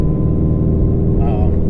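Idling engine of a tuned car with a 20% ATI setup, a steady low throaty rumble heard close and loud for a short moment with no break.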